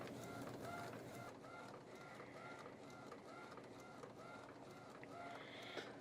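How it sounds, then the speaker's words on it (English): An Epson Pro 3800 printer prints onto Canson watercolor paper, giving a steady mechanical whir with faint clicks and carriage passes over six seconds, close by, with no talk. "now it's being printed"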